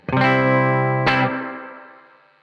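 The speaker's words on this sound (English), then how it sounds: "So if I have my reverb on at the moment on the clean channel" A guitar chord rings out on the clean channel of a Blackstar St James tube amp, then a second strum follows, each tail washing away in a smooth reverb decay.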